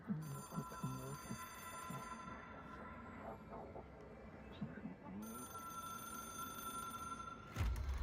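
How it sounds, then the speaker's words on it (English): A telephone in the video game Control rings repeatedly in a steady electronic trill, with someone talking over it. "I hear a phone ringing."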